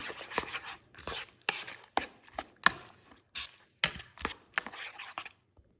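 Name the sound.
beating three eggs and mixing with spices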